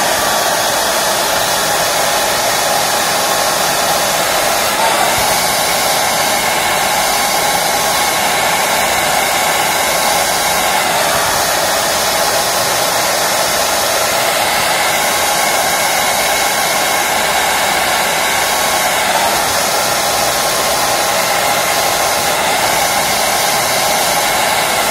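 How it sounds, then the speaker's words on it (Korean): A handheld hair dryer blows continuously and loudly for twenty-five seconds, used to heat the sides of an object, a steady high-pitched airy whir with a few slight dips in pitch and no talking. "드라이기로 여기 측면하고 여기 측면만 이렇게 드라이기로"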